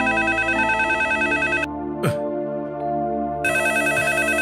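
A telephone rings loudly in a repeated electronic ring pattern, with brief pauses between bursts and a short rustling sound between rings, with no talking.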